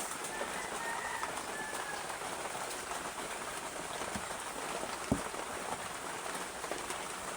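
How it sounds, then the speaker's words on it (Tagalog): Steady rain falls and patters on a surface, a dense continuous hiss with occasional louder drops and a faint bird far off. "umuulan guys."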